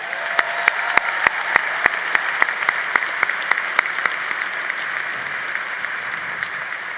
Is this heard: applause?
yes